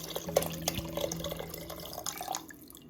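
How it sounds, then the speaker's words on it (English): Vegetable broth poured from a carton into a pot, a close liquid splashing and gurgling with small drips and a few clunks, fairly steady then tapering off at the end, no talking. "Now I'm gonna add 2 cartons of vegetable broth."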